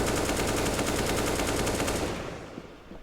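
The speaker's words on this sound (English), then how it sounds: "Nico looking for the wall bangs." Rapid automatic gunfire from a CS:GO match on the Nuke map, with bullets punched through walls. A dense, loud burst of shots runs for about two seconds, then fades into quieter scattered sounds.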